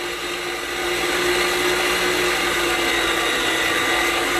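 An electric mixer runs steadily at high speed, churning organic cream into butter with splattering, a continuous loud whir with a slight rise in intensity after the first second.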